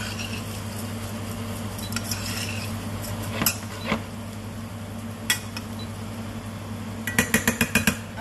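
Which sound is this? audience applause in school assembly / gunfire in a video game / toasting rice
toasting rice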